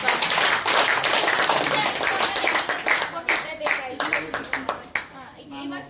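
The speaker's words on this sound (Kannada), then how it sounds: "ಜೋರಾಗಿ ಚಪ್ಪಾಳೆ." Loud, lively applause from a group fills the room, breaking into scattered individual claps near the end, with some voices mixed in, at a stroke-therapy gathering.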